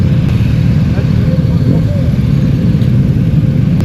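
Yamaha Ténéré motorcycle rumbling on a muddy, greasy track in Tunisia, a loud low engine drone with wind buffeting throughout, while people talk over it.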